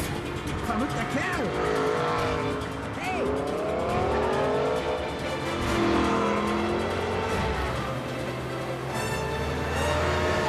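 A car accelerates hard with squealing tires, engine noise swelling and tire screeches rising and bending across the whole stretch while voices talk over it.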